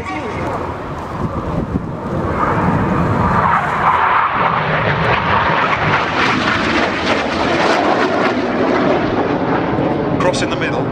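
Red Arrows jets flying formation double rolls at an air display, a broad roaring engine rush that swells and sustains for several seconds, with wind buffeting the microphone and a commentator talking over it.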